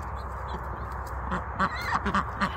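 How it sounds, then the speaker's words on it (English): A gray female runner duck in a backyard flock quacks in a few short, close calls, with steady outdoor noise underneath and no talking. "And that one's a runner duck."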